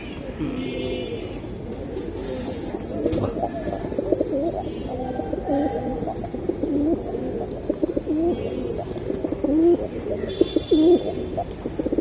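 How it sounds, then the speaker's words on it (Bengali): Pigeons coo continuously up close, deep throaty burbles overlapping from more than one bird, with occasional faint chirps in the background. "কবুতর দুইটা খুবই সুন্দর"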